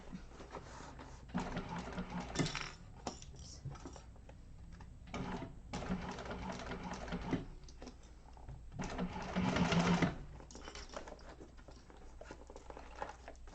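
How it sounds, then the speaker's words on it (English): A sewing machine stitches a seam on a bowler bag in several short, quiet bursts of rapid mechanical patter separated by pauses, close and faint. "you don't want to up your stitching too much, Cynthia, just a little bit"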